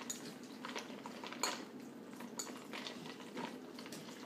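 Soft, faint scraping and clinking of a utensil in a bowl as beef tartare is stirred together with sauce, Dijon mustard and lemon juice, a quiet series of irregular taps and smears.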